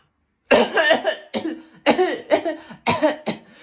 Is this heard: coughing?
yes